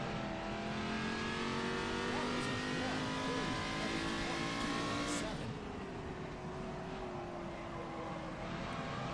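A race car in the rFactor 2 racing game revs and accelerates hard, its engine note climbing steadily and loud, with a brief shift around the midpoint before pulling on at high revs.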